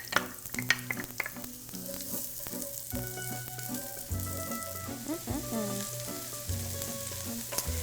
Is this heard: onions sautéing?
yes